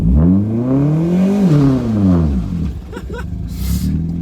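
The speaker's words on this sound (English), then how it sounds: "watch this big burnout that's about to go down" A car does a burnout on tires filled with helium, the engine revving hard with rising and falling pitch, followed by a quick clatter and a hiss of tire noise, close and loud.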